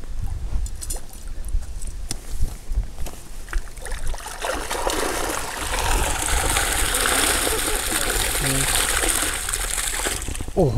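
Crucian carp splashing and thrashing in a bucket of water after a fishing trip, a busy wet sloshing that grows louder and denser in the second half, close by amid scattered knocks.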